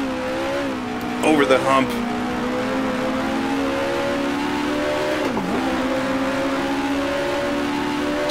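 1966 open-wheel race car in Grand Prix Legends at Warwick Farm, its engine droning loud and steady with rising pitch and a brief dip as the throttle comes back on, while someone talks briefly over it.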